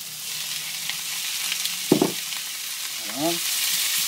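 Chicken, garlic and onions frying in a pan, a steady loud sizzle throughout with a couple of brief stirring scrapes from a utensil.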